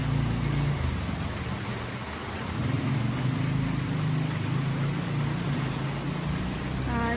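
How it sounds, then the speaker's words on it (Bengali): Heavy rain falling outside a home with a vegetable garden, a dense continuous broadband hiss of steady downpour with a faint low rumble underneath. "বেশ বৃষ্টি হচ্ছে বাইরে।"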